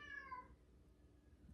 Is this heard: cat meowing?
yes